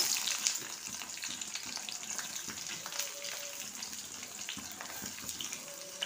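A large onion fries in hot oil with cumin seeds and green chillies in a steady, moderate sizzle. Faint scattered crackles run under it, and no one speaks.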